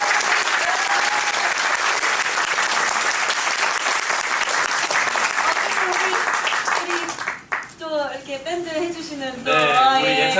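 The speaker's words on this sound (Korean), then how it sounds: "박수 한번 쳐주실 수 있나 해서" Steady audience applause fills a theater during the closing-night curtain call of a Korean musical, then fades as people talk over a microphone near the end.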